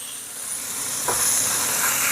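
Chicken pieces browning in a soup pot give off a steady bright sizzle and hiss that swells slightly partway through and carries on unbroken, close and fairly loud, with no talking.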